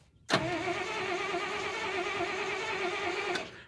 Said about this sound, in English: at this point, we start the engine.